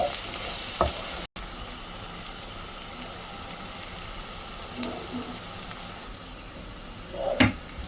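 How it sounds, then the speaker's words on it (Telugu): Onions fry in a pan for mutton fry with a constant close sizzle, broken by a few light stirring clinks and one louder scrape near the end. "ఇదిగోండి, ఉల్లిపాయలు వేగుతున్నాయి కదా, ఇంకా కొంచెం వేగాలి"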